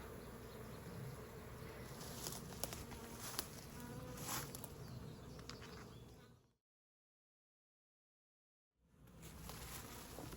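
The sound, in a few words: honeybees buzzing at hive entrance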